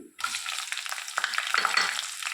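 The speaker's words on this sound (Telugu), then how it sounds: "తాలింపు వేసేసుకున్నాము ఇప్పుడు కొంచెం వేయించుకున్నాం కదా తర్వాత పచ్చిమిర్చి వేస్తున్నాను" Green chillies dropped into hot tempering oil with cinnamon and cloves burst into a loud, close crackling sizzle that starts abruptly and continues steadily, with a few stirring touches.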